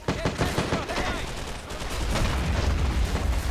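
Grenades and rapid gunfire crackle through a Men of War: Assault Squad 2 battle, dense bursts of shots giving way to a deeper rumbling blast, loud and continuous with a voice briefly over the din.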